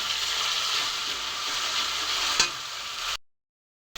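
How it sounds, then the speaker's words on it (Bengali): Ginger paste and green chili paste frying in a pan give a steady, close hiss of sizzling with a single sharp scrape of stirring midway, then the sound drops out briefly. "আমার মশলাটা ভাজা হয়ে গেছে"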